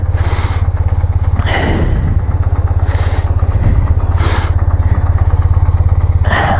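A dirty, well-used motorcycle engine runs at idle close by, a loud steady low putter with rhythmic clattering pulses and no talk.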